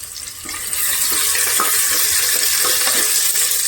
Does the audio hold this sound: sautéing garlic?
yes